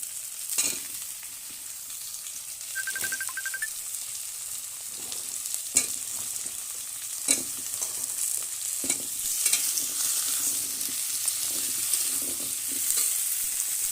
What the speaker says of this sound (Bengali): দিয়ে এবার এরপরে আলুগুলো দিয়ে ভাজবো।